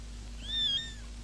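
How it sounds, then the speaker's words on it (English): A kitten gives one short, thin, high meow, faint against a steady low hum, in an old 1949 film. "You realized the kitten was there before I even saw it."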